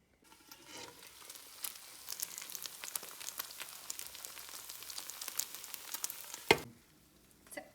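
Three egg whites and a whole egg frying in a covered pan, a soft, steady sizzle with scattered crackles and pops, fairly quiet and close, ending in a sharp clatter before it fades.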